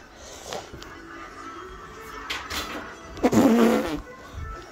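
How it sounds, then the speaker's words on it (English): Cartoon fart noises burst out in an Alphabet Lore fart-attack skit, a few short rasps followed by a louder, longer buzzing fart near the end, with faint voices around them. "Farting out of control."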